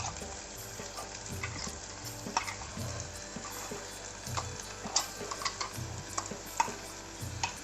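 Hurda, tender sorghum, sizzles in a hot tempering as a spoon stirs it in a pan, giving steady frying crackle with regular scraping strokes close by. The sound is fairly quiet, with no talking.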